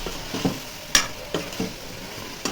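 Spices, salt and chilli being sautéed in a pan for a dried fish curry, a soft, low sizzle with a few separate spatula scrapes and knocks spread across a short stretch.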